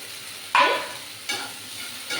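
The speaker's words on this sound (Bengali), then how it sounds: "ওই তেল আর ঘির মিশ্রণে আমি দিয়ে দিলাম হালকা ভাপানো আলুগুলো" Lightly steamed Chandramukhi potatoes go into a hot mix of ghee and mustard oil, with a sharp sizzling burst as they land followed by two softer scraping stir sounds, close and without speech.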